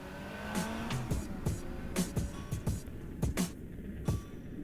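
A car speeding past in the video game Another Crab's Treasure, with a roaring engine, tire squeals and a string of sharp percussive hits and clatter over several seconds, loud and close, with no voices.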